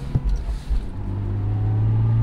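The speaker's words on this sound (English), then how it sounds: "so cool to see an IS200 with a little supercharger" A supercharged first-generation Lexus IS200 on public roads gives a close, loud engine rumble with a brief thump and rev at the start, then settling into a steady droning hum; no talking.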